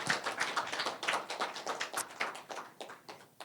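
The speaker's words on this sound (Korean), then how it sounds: "다시 한번 우리 좋은 강연을 해주신 김태우 교수님께 큰 박수 부탁드리겠습니다." A small audience gives quiet, scattered applause for Professor Kim Tae-woo after his lecture at a forum marking an organisation's 19th anniversary. The clapping is faint and uneven, with individual claps clearly separate, and there is no talk over it.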